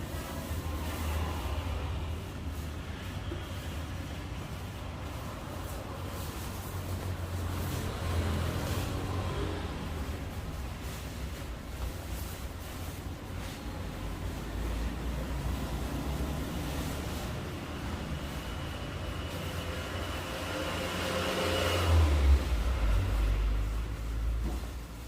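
Kawasaki ZX25R motorcycle fitted with a Yamaha R25 Orian exhaust, heard as a steady low engine rumble that swells in places, with a louder rev near the end and no talk over it.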